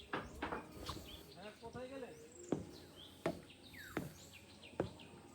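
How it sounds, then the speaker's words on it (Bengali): Birds at a large resort sing and chirp in quick warbling phrases and rising whistles, moderately near, mixed with sharp scattered clicks over a soft ambient hiss. "রিসোর্টের সবচেয়ে ভালো লাগার একটাই দিক হচ্ছে এত পাখির সাউন্ড।"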